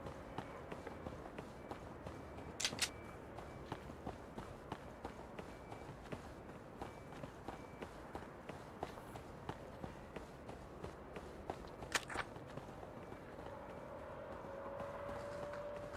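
Quick, steady footsteps of a player running closer in an original Xbox shooter, with a rapid regular patter of light thuds that stays fairly quiet against a low background hum.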